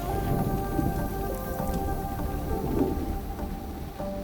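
Rain patters steadily on surfaces as a storm arrives, with low rumbling thunder rolling beneath and faint tonal music or hum threaded through.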